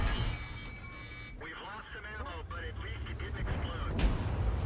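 A tank gun firing during a World of Tanks battle, a booming shot with rumbling low end under an excited commentator's voice, with steady game noise throughout.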